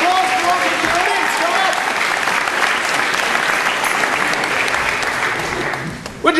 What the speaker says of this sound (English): round of applause for all the audience